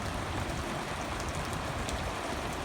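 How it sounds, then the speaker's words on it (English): Steady rain falls over an open cattle pasture, a dense even hiss of drops with no voices, continuous and moderately loud. "Listen to the rhythm of the falling rain."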